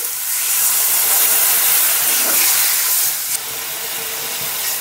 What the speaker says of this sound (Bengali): এরপর দিয়ে দিচ্ছি জল।